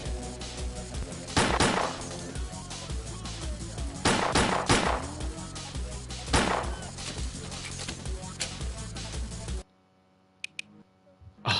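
Gunfire in S.T.A.L.K.E.R.: Clear Sky on PS5, several loud sharp shots spaced a couple of seconds apart over a steady game background, ending in a sudden drop to near silence with a few faint clicks.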